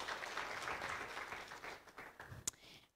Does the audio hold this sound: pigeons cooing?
no